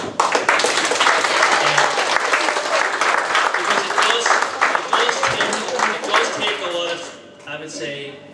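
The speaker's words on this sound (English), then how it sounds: "Can you applaud him?" A crowd at a social club event showcase claps loudly and close, a thick burst of many hands that carries for several seconds before thinning out, with voices rising as the applause fades.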